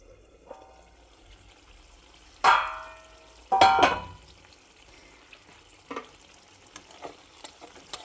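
Gutum fish charchari cooking in a pan on low heat, mostly a soft quiet bubble, interrupted by two short loud bursts of stirring and a few light utensil taps afterward.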